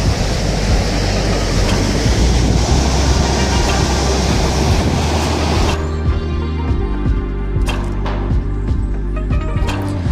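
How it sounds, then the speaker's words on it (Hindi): A fast-flowing river in the Kohistan mountains near a pass from Swat Valley, a loud, dense roar of rushing water close by that fills the first half and then drops to a lower rumble with occasional knocks. "इस दरिया के पानी का बहाव काफ़ी तेज़ था।"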